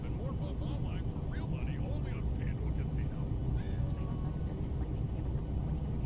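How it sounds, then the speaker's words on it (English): Airliner touching down at Chicago Midway and taxiing, heard from inside the cabin as a steady, loud broadband engine and road rumble that holds level throughout, with faint chatter underneath. "Touching down at Midway and taxiing."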